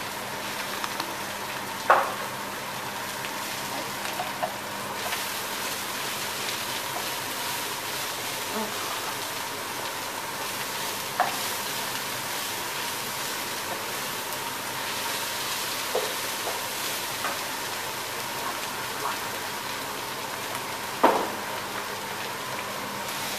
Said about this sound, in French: je fais revenir un peu les oignons